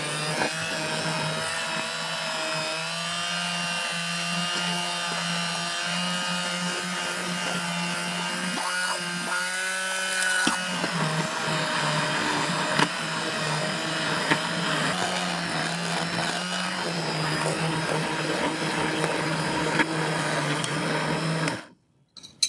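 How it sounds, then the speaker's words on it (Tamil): A blender fitted with a four-toothed blade churns wheat dosa batter, a loud steady whirring motor with a harsh buzzing drone that shifts pitch midway as the load changes, running continuously for about twenty seconds before cutting off abruptly. "பிளெண்டரில் இந்த பிளேட் போடணும்."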